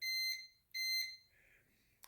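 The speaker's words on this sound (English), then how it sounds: "you'll hear the buzzer when I touch the red probe with the black" Continuity buzzer on a multimeter sounding as the red and black probes touch: two steady high beeps, each lasting about half a second with a short gap between, then a brief click at the end.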